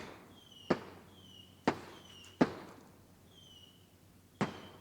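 Fireworks on the Fourth of July, heard from outside as four separate dull booms spaced irregularly over a few seconds. They sound distant and fairly faint, with no talking and a steady high tone in the background.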